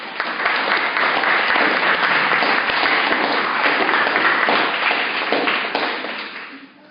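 A stream audience claps and applauds in dense, steady applause for nearly seven seconds, loud and close, with no talking, before it thins and fades at the very end.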